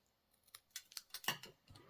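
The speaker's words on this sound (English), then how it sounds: "take a pair of scissors and just angle the ends" Scissors make a quick series of small snips at the ends of a narrow stamped paper strip during card making, several crisp close cuts in an irregular rhythm, the last one loudest, with no talk.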